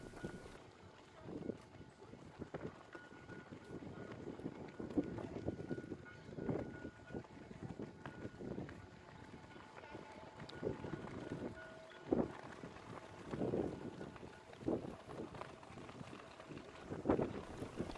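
Strong wind gusting across a harbour quay on the Danish island of Ærø, a continuous rushing roar with buffeting bursts and occasional knocks and thuds, loud and steady, with no voices.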